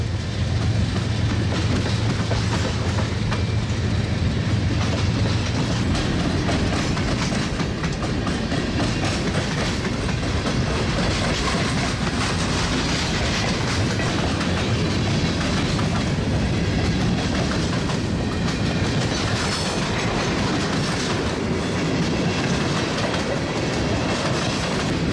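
Freight train Q609 with AC-44CW and ES-44DC locomotives and a GP-40-2 in tow rolls past nearby, a loud continuous roar of wheels and cars with clickety-clack rhythm and occasional squeal throughout.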